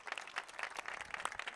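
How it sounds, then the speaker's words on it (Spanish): An audience applauding at a speech about universities in Buenos Aires province, a brief, faint patter of scattered clapping from a distance with no voices over it. "Ustedes aplauden."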